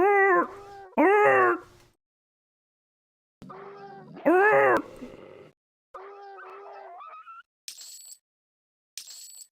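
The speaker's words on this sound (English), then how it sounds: "Such needlessly dog-like sounds." Dog-like howls and yelps from creatures in the EverQuest 2 for Pocket PC video game, in several separate wavering cries with silent gaps, then short high game blips near the end.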